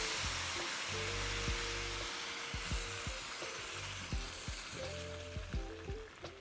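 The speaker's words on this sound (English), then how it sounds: "Now the only thing left to do is add our broth or our stock." Sizzling Cajun chicken and rice pan hissing steadily as broth or stock is poured in, a broad continuous frying hiss with scattered clinks and low rumbles throughout, close up.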